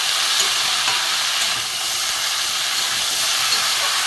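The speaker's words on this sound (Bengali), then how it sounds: "আমি কচুর ডাটাগুলো দিয়ে দেবো একটু ভালো করে ভাজবো" Taro stalks fry in a pan with a dense, constant hissing sizzle, loud and close, and no talk over it.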